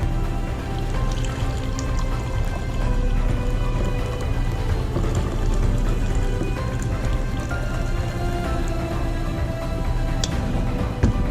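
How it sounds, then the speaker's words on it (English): Coffee pours steadily from a French press into a cup, a continuous splashing trickle that runs close and even for about eleven seconds, with no one talking. "Once you're done with that, you are ready to pour it up."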